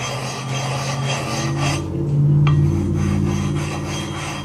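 A diamond DMT plate rubbed across a wet 6K whetstone to raise slurry, a close, continuous gritty rasping in steady back-and-forth strokes with no talk.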